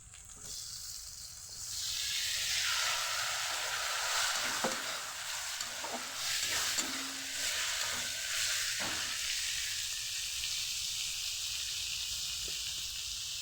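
Tomatoes hit a pan of frying ginger, garlic and onion, setting off a loud, steady hissing sizzle with occasional stirring scrapes, close by and without talk.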